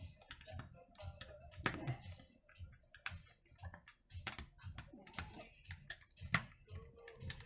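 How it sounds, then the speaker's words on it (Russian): Small screws being backed out of a petrol brush cutter's throttle handle during repair, giving a close run of irregular metallic clicks, taps and handling noises with no talking. "Откручиваю все вот эти вот винты."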